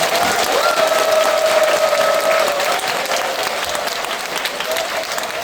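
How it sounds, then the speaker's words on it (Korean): A congregation at a Korean church's Sunday worship service gives a brisk, sustained round of applause that stays loud and then eases a little toward the end. "박수 한번 쳐주시기 바랍니다"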